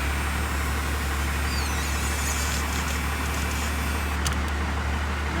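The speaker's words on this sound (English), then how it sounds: "I'm gonna go ahead and crank it up and see how she acts with the power booster" Dodge truck engine running at a steady, continuous idle, close and fairly loud with a low rumble throughout, no voices present.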